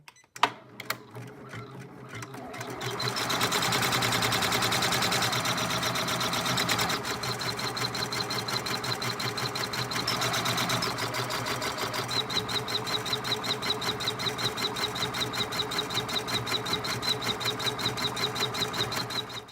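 Embroidery sewing machine stitching a bunny's bow design, starting with a few clicks and then settling into a loud, steady rapid mechanical whirr and tapping that runs continuously up close.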